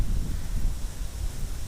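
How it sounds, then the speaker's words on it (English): Wind gusts outdoors buffet the microphone, a loud, uneven low rumble that swells and dips over a couple of seconds with no other sounds. "It's quite windy now."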